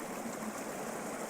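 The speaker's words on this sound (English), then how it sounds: "this little waterfall here" A small waterfall in Norway gives a steady, broadband rush of falling water, continuous and fairly close, with no other sounds.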